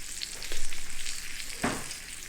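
Rainbow trout fillets sizzle in a pan for tacos, a close, steady frying hiss with a brief sharp crackle partway through.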